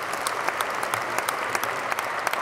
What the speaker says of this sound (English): Round of applause for table,